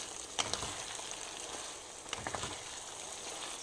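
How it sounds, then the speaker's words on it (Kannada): Masala-coated brinjal pieces frying in hot oil on high flame, a steady crackling sizzle with a few sharper pops, fairly quiet and alone without any talk. "ಇದು ಫ್ರೈ ಮಾಡಬೇಕು, ಎಣ್ಣೆಲೇ ಫ್ರೈ ಆಗಬೇಕದು."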